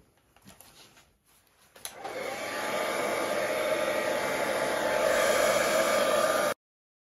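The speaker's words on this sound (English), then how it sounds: "So I will use the hairdryer just to blow this colour across the" A hairdryer blowing acrylic paint across a canvas for a pink Dutch pour: after a few faint taps, a steady, loud, close whooshing hiss that runs for several seconds and stops abruptly.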